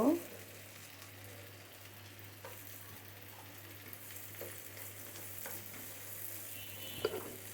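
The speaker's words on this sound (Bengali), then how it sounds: "চিংড়ি মাছটা হালকা ভাজা হয়ে গেছে এখন আমি রসুন কুচি দিয়ে দিব" Shrimp coated in salt, turmeric and chili sizzling with chopped garlic in a pan, a soft steady crackle with occasional stirring scrapes, close and fairly quiet.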